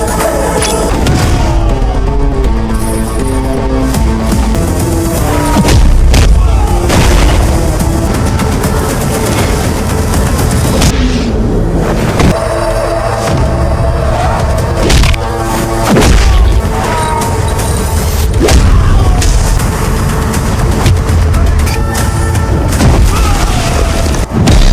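Explosions from an action film, a grenade blast at a minister's house, arrive as repeated loud booms and crashes, with heavy thumps and debris across a dense, continuous stretch of violent noise.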